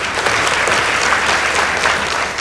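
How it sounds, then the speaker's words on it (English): Steady, dense applause from a school debate audience after a Naromoru Girls High School versus Murang'a High School match, loud and continuous for the whole stretch with no speech over it. "Please give them a round of applause."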